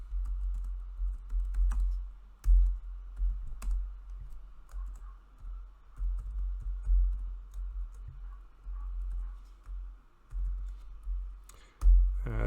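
A computer keyboard typed on steadily while a unit test for a shopping cart is written, close, irregular bursts of light key clicks and occasional louder taps over a faint steady hum, with no voices.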